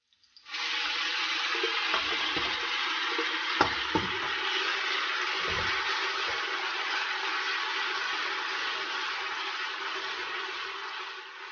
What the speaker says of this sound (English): I'm going to stir it for 1 or 2 minutes before I added my blended onions and ginger to it.